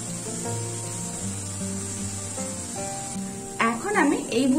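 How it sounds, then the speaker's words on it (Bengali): Boondi, drops of gram flour batter, fry in hot oil with a steady hiss and sizzle, then burst into louder crackling bubbling near the end while a voice talks over it. "এখন আমি এই বুন্দিয়াগুলোকেও এক মিনিটের মতন ভেজে নিচ্ছি।"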